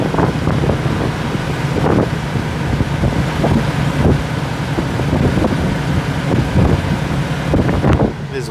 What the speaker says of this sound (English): Hear how windy it is?